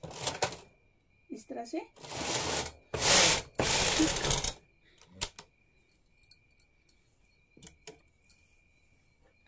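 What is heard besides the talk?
hand knitting machine carriage being run across the card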